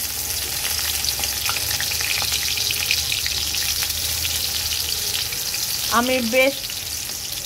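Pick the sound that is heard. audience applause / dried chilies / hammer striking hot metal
dried chilies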